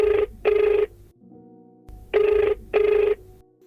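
A telephone rings as a radio-style show calls a caller: two pairs of loud electronic double rings separated by a quiet pause with a faint tone, close and clear, without talking.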